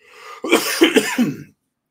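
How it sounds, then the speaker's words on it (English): A short burst of several harsh coughs close to the mic, about four quick hacking bursts in a row, then silence. "please forgive me for coughing"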